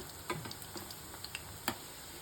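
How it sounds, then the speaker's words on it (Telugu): Lauki kofta balls fry quietly in oil, a soft continuous sizzle broken by a few light clicks and taps as the balls are turned over with a spoon. "ఒకవైపు వేగిన తర్వాత రెండో వైపుకి తిప్పేసుకోవాలి వీటిని"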